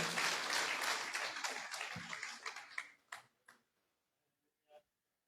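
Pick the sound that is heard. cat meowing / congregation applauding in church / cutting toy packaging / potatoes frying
congregation applauding in church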